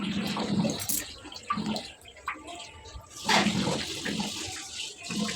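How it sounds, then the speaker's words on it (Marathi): Water gushes from a pipe into a drum, a churning, hollow splashing that swells and eases, close by and fairly loud. "ड्रम हळूहळू भरत आहे"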